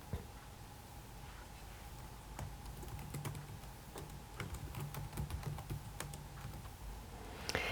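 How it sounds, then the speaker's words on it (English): Steady computer keyboard typing, a run of quick, close clicks and taps with short pauses, over a faint background hum. "You just start typing in it."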